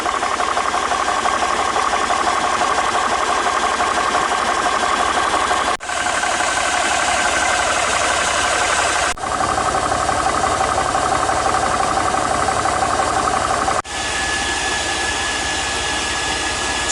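An Air Venturi Nomad II portable air compressor runs steadily at close range, a loud continuous whine with mechanical chatter, briefly dipping three times before carrying on.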